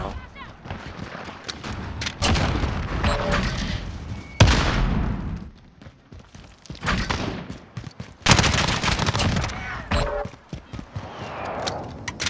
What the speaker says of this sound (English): I'm getting shot from like everywhere now.